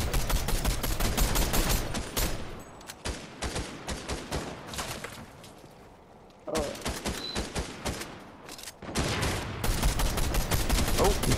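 Rapid automatic gunfire in Fortnite, dense bursts of shots that fade out for a few seconds and then resume at full strength, with a voice talking underneath.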